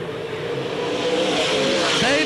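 Sprint cars roar around Port Royal Speedway at a 1986 season opener, a continuous loud engine drone with rising pitch as cars pass, heard over crowd and track ambience.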